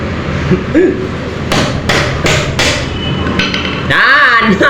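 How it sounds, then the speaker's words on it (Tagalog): Repeated sharp hammer blows strike in a steady series, with talking and laughter around the pounding. "Martilyo eh. Pukpok talaga."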